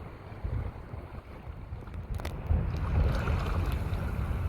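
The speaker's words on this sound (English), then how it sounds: "Quite windy, quite choppy." Gusty wind buffets the microphone over choppy water in Freshwater Bay while kayaking, with a steady low rumble that swells louder in the second half and no voices.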